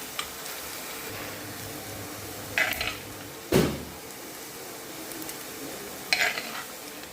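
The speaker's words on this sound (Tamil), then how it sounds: "கட் பண்ணி வச்சுருக்க பாவைக்காவை நல்லா போட்டு கொஞ்சம் வதக்கி எடுக்கலாம்" Cut bitter gourd sautéing in sesame oil in a clay pot gives a steady soft sizzle, with a few sharp stirring scrapes and clinks of a utensil against the pot.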